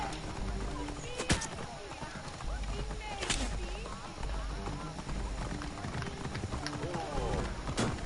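Rhythmic hoofbeats of a galloping horse in Assassin's Creed Origins run steadily under busy game audio, with voices and chirping sounds mixed in throughout.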